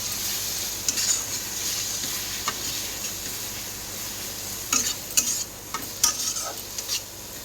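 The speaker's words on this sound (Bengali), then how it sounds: "দিয়ে এটা ভালো করে মশলাটা কষিয়ে নেব।" Onion, ginger, garlic, turmeric and chilli powder fry in oil in a pan, giving a constant close sizzle, while a spatula scrapes and stirs in several short, sharp strokes, mostly toward the end.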